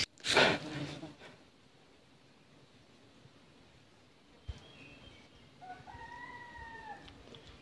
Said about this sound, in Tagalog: So yun mga katuldok, may tumitilaok.